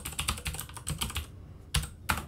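Keys clatter on a computer keyboard in quick irregular bursts as a search is typed, close and clear, with a brief pause before the final few taps.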